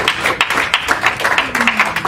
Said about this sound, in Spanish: Seguiré aplaudiendo de Mariela